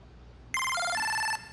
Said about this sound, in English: All that is a square wave with an LFO on the octave.